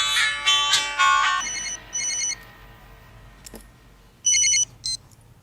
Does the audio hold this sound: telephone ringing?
yes